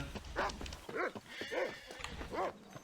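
A big dog barks in the video game Red Dead Redemption: four evenly spaced barks close by, over a steady game ambience, with no talk.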